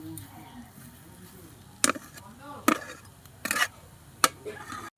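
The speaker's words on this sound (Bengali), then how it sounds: "নাড়াচাড়া করছি, আর একটু নাড়াচাড়া করব" Spoon stirring pea paratha filling in a pan: several sharp scraping clinks at irregular intervals over a quiet background with a faint voice-like murmur.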